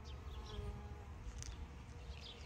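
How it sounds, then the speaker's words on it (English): Bees swarm around flowering catmint (Nepeta) in a summer garden, a steady close buzzing drone with brief louder passes as individual insects fly near. "it's hard to stick your hand in there because there's like 9 million bees"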